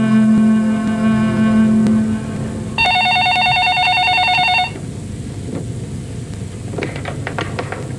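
A telephone rings in an indoor scene: a low steady tone first, then a bright electronic ring burst of about two seconds, followed by quieter room noise and faint clicks.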